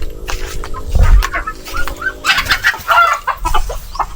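Native chickens on a small farm cluck and squawk up close, loud and continuous, with a busy farmyard background.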